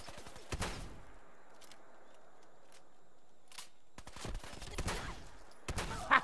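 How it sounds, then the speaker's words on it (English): A shotgun fires in Fallout 4, loud sharp blasts heard alone, one early and a cluster later, separated by quiet ambient gaps. "Let's use the shotgun because that should be fun."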